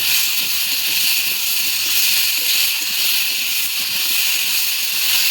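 Taro stems with chilli and cumin paste fry in a pan, giving a loud, continuous hissing sizzle that holds steady from start to finish.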